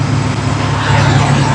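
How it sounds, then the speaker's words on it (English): A loaded semi truck engine roars loudly in a steady, deep drone heard close from the hood, with a dense rumbling, broadband texture throughout. "I'll never get tired of listening to this truck sing."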